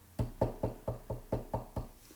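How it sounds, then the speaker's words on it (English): Eight steady knocks on a small red door, evenly spaced and fairly close, each a firm hollow rap with a short decay, no voices present. "Mr. Happy knocked on the door"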